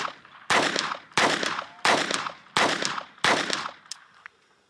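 A Phoenix HP22A .22 pistol fires five sharp shots in an even, steady rhythm, loud and close, each with a short ringing decay. A faint metallic click and light handling noises follow the last shot.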